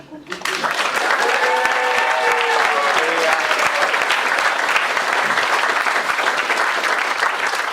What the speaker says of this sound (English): let's give a big round of applause to the folks who are tuning in at home